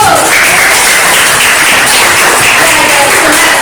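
Classroom applause from pupils: loud, dense, steady clapping that fills the whole stretch with no pauses.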